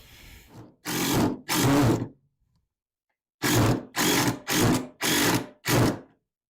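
A power drill drives a screw in short bursts, two quick whirs, a pause, then five more loud, close pulses in a row.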